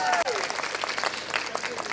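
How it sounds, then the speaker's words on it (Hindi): Wedding guests at a Marwari wedding applaud together, a dense burst of clapping over a lively crowd, with people talking through it. "तालियां हो जाए भाई इस बात के लिए।"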